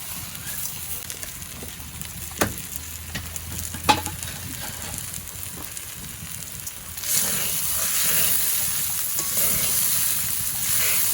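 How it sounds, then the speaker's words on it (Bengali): Gobindo bhog rice frying in a pan with dal and peanuts, stirred with a few sharp scrapes early, then a louder, denser sizzle as the dal and peanuts go in, close and steady, no talking. "চালটা একটু নেড়ে নিয়েছে, এরপর সব ধরনের ডাল আর বাদামটা একসঙ্গে দিয়ে দেবে এখন"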